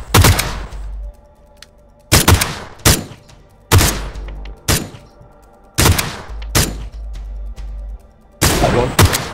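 Gunfire in PUBG on Xbox One rings out in short, loud bursts, about seven separate volleys of rapid shots spaced a second or so apart, sharp and close with quiet gaps between.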